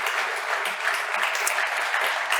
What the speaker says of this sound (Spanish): Cristina Garmendia, fuerte aplauso para ella.